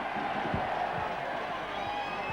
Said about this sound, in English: A sarcastic round of applause goes up from the Widnes fans.